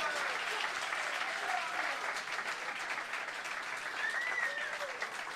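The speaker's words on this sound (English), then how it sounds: "Another round of applause for our players." An audience at a PBA50 bowling stepladder final applauds the players, a steady wash of clapping from a crowd at moderate distance that carries on throughout, with some faint voices mixed in.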